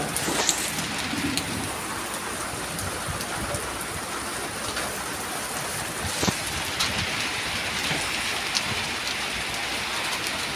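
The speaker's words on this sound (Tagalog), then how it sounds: "Umuulan na nga rin pa." Heavy rain pours down steadily on a surface, a dense hiss with scattered louder drips and taps, continuous and close.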